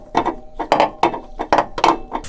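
A hand ratchet unthreads a bolt from the clutch slave cylinder on a Mazda Miata, producing a steady series of close, loud clicking strokes in a regular rhythm.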